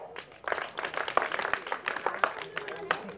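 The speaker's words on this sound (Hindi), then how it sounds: "सब अपने लिए बहुत जोरदार ताली बजाओ" Audience at a Brahma Kumaris spiritual talk clapping, a somewhat sparse, uneven patter of individual claps at moderate distance, with voices mixed in.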